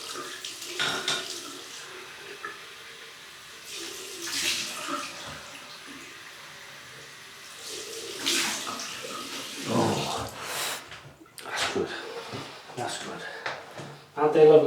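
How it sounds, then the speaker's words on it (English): Cold tap water runs and splashes as a face is rinsed after shaving, in irregular bursts of splashing with brief pauses, and a person talks between them. "Cold water rinse."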